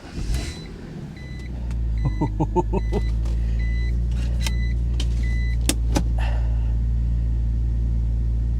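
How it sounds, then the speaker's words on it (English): A BMW Z4 starts up: a starter whirs briefly, then the engine catches into a steady, loud idle rumble that holds to the end, with a few clicks and chimes inside the car. "then we can start this car up and get it out of here"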